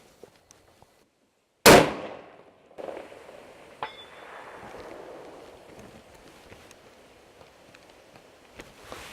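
A single loud 6.5 Creedmoor rifle shot fired at a small target 550 yards away cracks sharply after near silence, followed by a long fading rumble, then a faint metallic ping of the distant impact a couple of seconds later.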